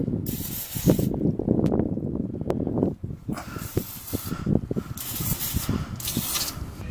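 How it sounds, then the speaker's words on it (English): Aerosol spray of PB Blaster penetrating oil on the seized nuts and bolts of a second-generation Chevy Astro van's muffler, hissing in several short bursts amid close metallic clicks and handling noise. "we're gonna soak these nuts and bolts with a good old PB Blaster"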